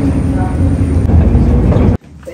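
A mine museum train in Canada runs past with a loud, heavy, continuous rumble and rattle, then the sound cuts off abruptly and drops to quiet.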